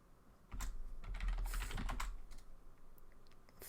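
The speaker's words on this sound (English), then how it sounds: "I'm typing in some other window." Rapid typing on a computer keyboard, a busy cluster of close clicking keystrokes that swells, then thins out to scattered taps.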